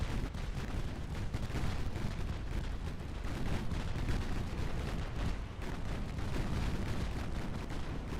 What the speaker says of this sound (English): we did get a torpedo hit. Down goes a heavy cruiser.